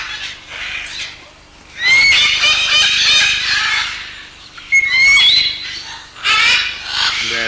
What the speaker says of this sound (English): there at the end is the female Leah's macaw